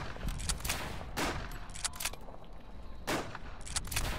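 Gunfire in the World War I shooter Verdun crackles in several separate sharp bursts over a quiet background, fairly faint and distant, with no talk.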